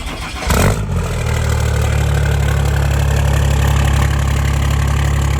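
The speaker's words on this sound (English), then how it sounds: "let's just do a little remote cold start" A diesel truck engine remote cold starts with a brief cranking burst, then settles into a loud, steady, deep rumbling idle close by.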